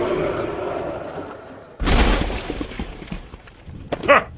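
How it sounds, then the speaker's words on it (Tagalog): An aswang's body bursts in a Filipino audio drama, a sudden heavy boom with a low thump, then a fading rumbling tail and a sharp crackle near the end, following a stretch of murmured voices. "Sumabog nga ang katawan ng aswang na yan."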